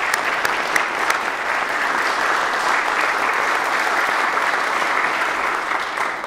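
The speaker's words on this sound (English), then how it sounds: "give a round of applause for those who have decided to run and be here for your community" An audience at a bicentennial kick-off ceremony gives steady, continuous applause for community election candidates, a moderately loud wash of many hands clapping throughout with no talk over it.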